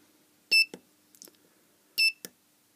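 A Chinese electronic clock assembly kit running as a countdown timer gives two short high electronic beeps about a second and a half apart, each followed by a softer click, close and clear over near silence.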